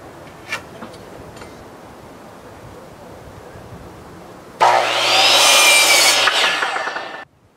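After a few quiet clicks, a loud power saw whines through a board for about three seconds, then spins down.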